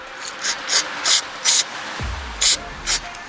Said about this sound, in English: Spray down through it, see if anything's coming out the bottom.